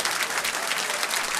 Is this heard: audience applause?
yes